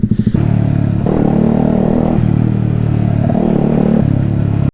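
A 125cc motorcycle fires up from a cold start after sitting for over a week, catching with a few quick sputters and then settling into a loud, steady, rumbling rev close by for several seconds before cutting off abruptly.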